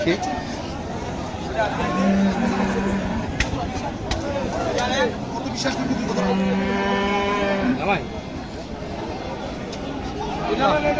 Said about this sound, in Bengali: শুনছেন পাশে আরেকটি গরু দেখছেন